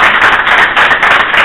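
An audience bursts into a round of applause for a woman's birthday during a lecture, a dense, continuous patter of many hands that holds steady for the whole stretch with no talking.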